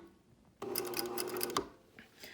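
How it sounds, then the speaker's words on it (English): A home sewing machine runs close by for about a second, stitching a half-inch seam on a box top with a steady whirring buzz, then stops, followed by a few faint handling sounds. "Now I'm going to sew my 1/2 inch seam."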